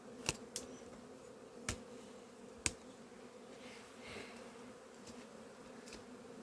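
Honey bees hum in a steady, close drone during a beehive inspection, with several sharp knocks and clicks of frames or the hive body breaking through the buzz and no talking.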